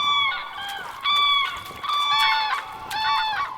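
Cranes at a lake in Germany give loud, harsh trumpeting calls in repeated overlapping bursts, several birds bugling close by with brief pauses between phrases.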